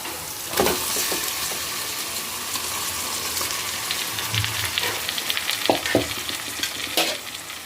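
Masala-coated chicken goes into a pan of fried onions and sizzles steadily, with a spatula scraping and stirring now and then, loud and close, no voices.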